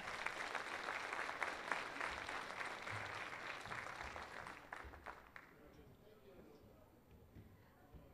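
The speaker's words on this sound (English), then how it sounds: "Another round of applause for them." Audience applause at a kindergarten orientation in a school setting, following a fourth-grade class performance: dense, steady clapping from a sizeable crowd for about five seconds, then thinning and fading out.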